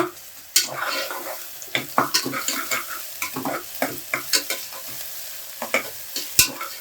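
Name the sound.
onions being stirred and fried in oil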